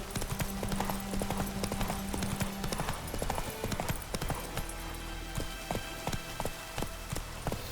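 The horse Roach gallops in The Witcher 3, giving a rapid, rhythmic clip-clop of hooves over ambient game sound, fairly close and continuous, with a brief tonal hum early on.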